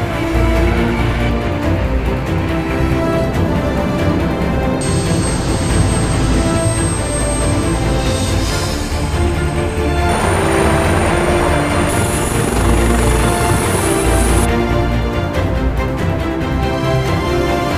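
Z-8L, Z-20, Z-10 and Z-19 military helicopters take off at sea during day-and-night flight training, with a loud, constant roar of engines and rotors and high whining tones that shift in pitch.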